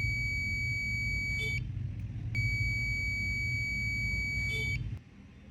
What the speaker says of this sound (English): Whenever there is a medication time, the buzzer will sound